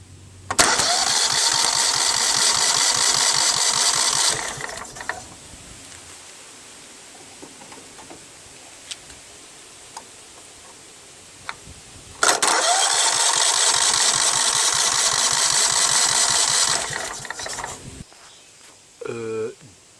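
A John Deere STX30 lawn tractor with a faulty solenoid cranks and fires up twice. Each time a loud, close engine roars for several seconds and then cuts out, with a quiet gap between the two runs.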